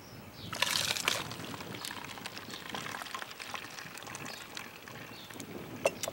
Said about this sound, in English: pour it into a spray bottle.